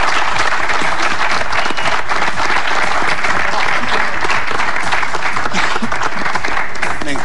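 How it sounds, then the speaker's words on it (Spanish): Studio audience on a television variety show applauds footballer Lucas Castromán during a magic segment: dense, loud, sustained clapping that fills the whole stretch without pause. "Un aplauso para Castromal."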